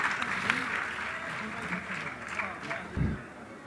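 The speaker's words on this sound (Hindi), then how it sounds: "उनका स्वागत कीजिए तालियां बजाकर" Applause from a crowd at a mushaira and kavi sammelan poetry gathering in Mathura, welcoming poet Shakeel Jamali, a steady dense clatter with a low thump near the end, mixed with some talk.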